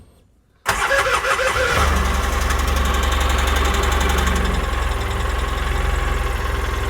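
Polaris Ranger UTV engine cranks and catches after a short quiet moment, then settles into a steady, loud, close idle that runs high and even with a faint ticking texture.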